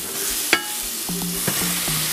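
A beef burger patty being pressed down in a hot pan sizzles loud and close, with a few sharp taps and clinks of the press or spatula over the steady hiss.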